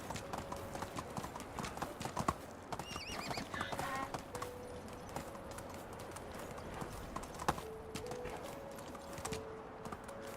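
Horse hooves clip-clop steadily in Medieval Dynasty, a fast, even gallop heard close and fairly quiet, with a brief whinny early on and faint ambient game sound beneath.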